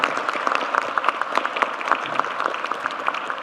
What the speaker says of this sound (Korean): 박수도 한번 쳐주면